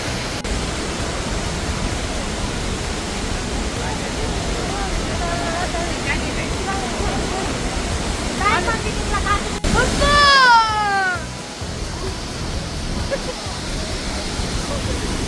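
La Fortuna waterfall in Costa Rica roars as a steady, loud rush of falling water throughout, with brief high-pitched voices or calls rising over it near the middle.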